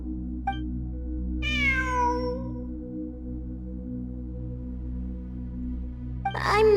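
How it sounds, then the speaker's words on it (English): A cat in Genshin Impact gives a clear, drawn-out meow, then a second shorter cry near the end, both over a low, steady musical drone. "It really is a cat."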